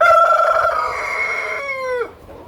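A rooster on a poultry farm crows once, loud and near, the drawn-out call falling off sharply at the end over a low background hum.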